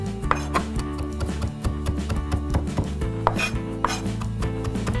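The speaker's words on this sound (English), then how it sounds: "We wanna chop this really finely." A Kuma 8-inch chef's knife finely chops fresh thyme on a cutting board, giving close, rapid irregular taps and knocks over a steady background of music.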